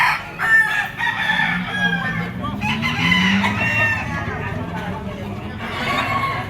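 A white-legged Boston gamefowl rooster crows amid other roosters and clucking birds at a market in Padre Garcia, Batangas, with people talking nearby.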